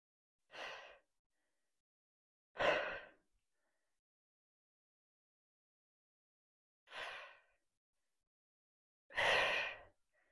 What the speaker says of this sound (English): I'm a heavy breather, I've decided